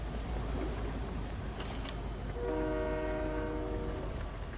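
A train in the video game Fortnite rumbles steadily, with a clear sustained horn blast sounding over the rolling noise partway through; the sound is fairly quiet overall.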